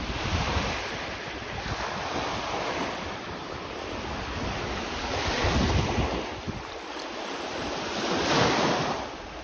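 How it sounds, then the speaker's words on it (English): Waves wash onto a Lake Ontario beach in December, a steady broad roar with gentle swells rising and falling, mixed with heavy wind buffeting the microphone. "I like how the water waves too"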